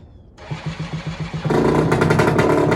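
A two-stroke boat engine with no kickstart starts in the cold, opening with a rhythmic chugging of cranking pulses before catching into a loud, close, buzzing run with a rapid revving rattle.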